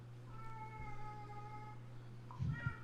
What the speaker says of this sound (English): it really does sound like the cat is being abused